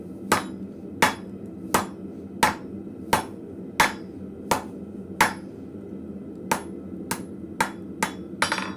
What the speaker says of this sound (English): going to flip this guy around so I can do the hammer marks on the rest of its body